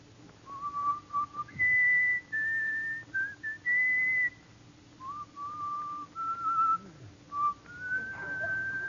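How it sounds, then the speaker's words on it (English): A person whistles the tune Coming Through the Rye, a clear, steady melody of held and sliding notes with brief breaths between phrases, close and alone over a faint hiss. "Let me hear your whistle coming through the rye."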